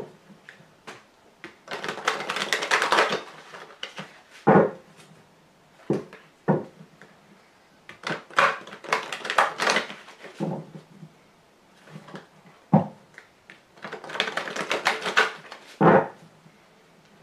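Lenormand cards being shuffled and drawn, with several bursts of riffling shuffles separated by single sharp card slaps and brief quiet pauses, close and moderately loud.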